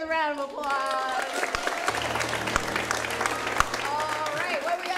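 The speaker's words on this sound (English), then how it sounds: "Players a round of applause." Audience applause for improv comedy players at a live improvised comedy shootout, a steady wash of many hands clapping that runs the full length, with a voice talking over it near the start and end.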